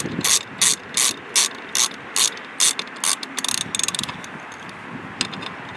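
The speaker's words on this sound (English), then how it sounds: "And now we go back to putting these long screws back in." A hand ratchet tightens long screws into metal J-clips during a 2024-2025 Tesla Model 3 installation, clicking up close in a steady run of short, evenly spaced bursts followed by a quicker flurry of clicks.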